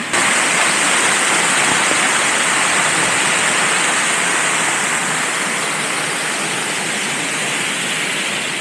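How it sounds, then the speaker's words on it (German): Lichtenhainer waterfall in Saxon Switzerland rushing steadily, a loud, dense, unbroken roar of falling water heard up close with no other sounds. "Ja, an dem Lichtenhainer Wasserfall"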